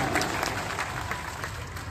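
Applause from a fair audience at a mimicry performance, a dense, even burst of many hands clapping, loud and close, with no voices over it.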